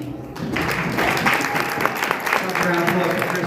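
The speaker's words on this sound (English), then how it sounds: "Round of applause for Kristin, everybody" An audience at a red light therapy education talk gives Kristin a round of applause, a steady, fairly loud clapping that builds after a brief start and carries on with voices mixed in.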